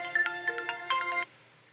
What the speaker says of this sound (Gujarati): ફોન હગ્યા